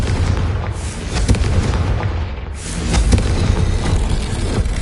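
A Confringo fire spell explodes in Hogwarts Legacy on PS5, a loud booming blast with rumbling low end and crackling bursts that swell again midway, with no talk.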